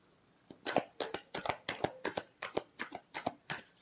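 A tarot deck is shuffled by hand close up, with about a dozen quick, crisp riffling flicks in a steady rhythm, fairly quiet and with no talking.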